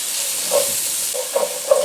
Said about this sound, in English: We're going to go ahead and we're going to saute these guys up and do it until it's about translucent.